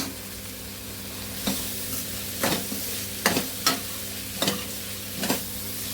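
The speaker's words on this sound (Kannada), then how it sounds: "ಎಲ್ಲ ಎಣ್ಣೆಗೆ ಹಾಕಿ ಹುರಿತೀನಿ" Coriander leaves and spices frying in oil for lemon rice, a steady sizzle broken by about six sharp scraping strokes of a spoon stirring the pan.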